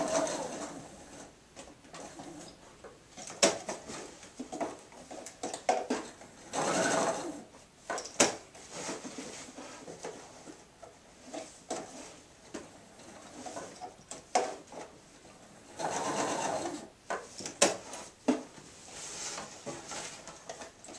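A sewing machine runs a box stitch on an apron in short bursts of rapid mechanical whirring, broken by pauses, clicks and handling noises, heard up close.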